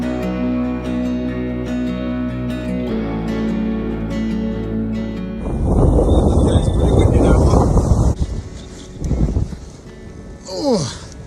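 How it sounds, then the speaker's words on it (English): Strong wind buffets the microphone in loud, roaring gusts on open Dartmoor moorland near Hound Tor after a stretch of steady tonal hum, with faint rustling and movement nearby. "Alright, it's pretty windy now."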